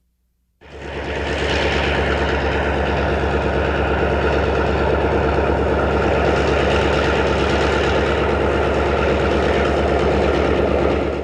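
A train on an American Midwest rail line starts up abruptly and loud, then holds a heavy, steady engine rumble with rolling wheel noise and no voices, running unbroken for over ten seconds.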